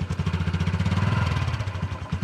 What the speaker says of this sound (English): We're doing a first-time rider on a Cub here.